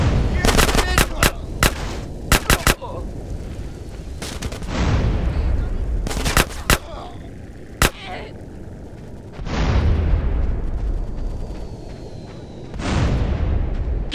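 Video game shootout with police at the back of a motel: repeated sharp gunshots and bursts of automatic fire, loud and close, mixed with booming blasts and rumbling, while voices shout over the action.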